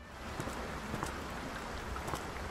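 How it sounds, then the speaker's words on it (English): Steady rain patters across surfaces in the horror game Layers of Fear, a soft, continuous hiss heard alone at low level. "Rain. Footsteps."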